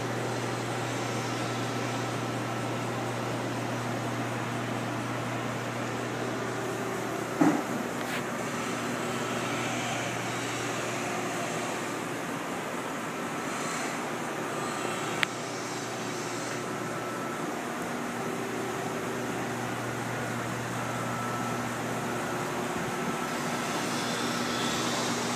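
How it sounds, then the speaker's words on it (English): The coolant pump on a Do-All C-916A horizontal saw runs with a steady low hum and airy hiss, close and even throughout, broken by a couple of small knocks, with no speech. "That's the coolant pump."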